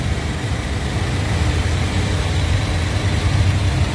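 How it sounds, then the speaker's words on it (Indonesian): A 2014 Toyota Yaris TRD automatic hatchback idles steadily nearby, a low, even engine rumble holding constant throughout with no voices. "Mesin halus banget, nggak ada suara aneh-aneh. Ini nyala ya."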